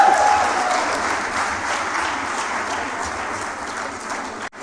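An audience at a women's leadership event in Abuja applauds steadily, a continuous wash of many hands clapping at moderate loudness, dipping briefly near the end.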